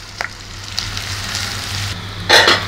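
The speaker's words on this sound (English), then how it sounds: "Chili, red chili powder, green chili, onion, and stir it well" Chili powder, green chili and onion frying in a pan while being stirred, a close steady sizzle with scattered scrapes and a louder hissing burst near the end, no voices.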